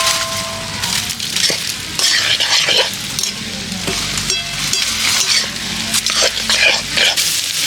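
Chopped chilli, garlic paste and chicken fry in a kadai over a clay stove, with loud continuous sizzling and busy stirring scrapes, a voice speaking now and then over the cooking.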